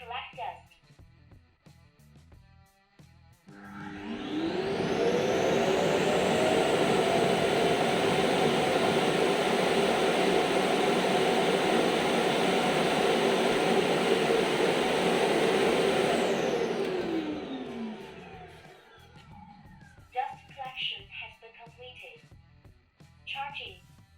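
Imilab V1 robot vacuum docking station emptying the robot's bin: a loud, steady suction roar that spins up with a rising whine, holds for about twelve seconds and then winds down, with brief talk before and after.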